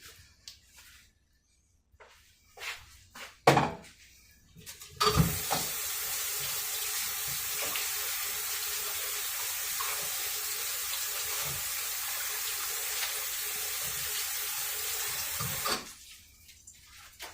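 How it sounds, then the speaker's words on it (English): A spatula is rinsed under a running kitchen tap while making sour cream coffee cake. A few clatters come first, then a steady, close rush of water lasts about eleven seconds before cutting off abruptly. "Rinse our spatula off because we're going to need that."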